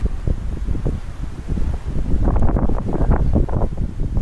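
Steady wind on a Boracay beach buffets the microphone in low rumbling gusts, growing stronger midway, with a faint wash of surf behind it.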